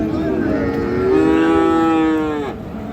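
A Friesian or crossbred bull calf lows loudly and close at Raniganj cattle market, one long drawn-out moo swelling in the middle and fading, over a busy crowd murmur.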